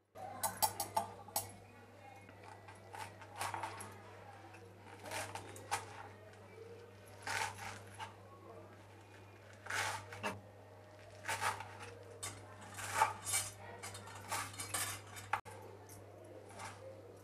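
Green garlic and radish are chopped on a board with a knife, giving sharp irregular tapping cuts in scattered bursts over a low steady hum in a quiet kitchen.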